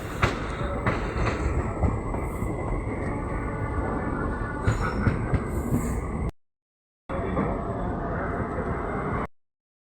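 The Ramnagar–Lal Kuan train at Rampur station rumbles along as a steady, loud rolling roar with some clattering. A brief gap breaks the sound partway through before it resumes.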